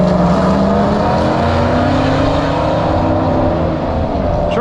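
A drag truck makes a pass down a dragstrip: a loud, sustained engine roar with a slowly rising pitch that holds steady throughout, with no talk.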